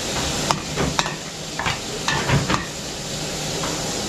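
Ingredients for a pork belly dish sizzle steadily in a frying pan just after a splash of water, with a few brief clinks and stirring knocks over a continuous close frying hiss.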